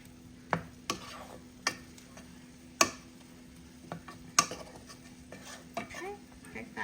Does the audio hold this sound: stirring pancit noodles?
yes